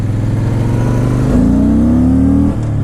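A 2013 Honda Saber cruiser motorcycle runs with a loud, close engine note that climbs steadily in pitch as it revs and then drops off at the end. No one speaks.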